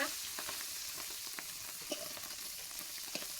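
Small tangra fish frying in a pan of hot oil for a Bengali curry, giving a steady, close, bright sizzle with scattered crackles and pops, and no voices.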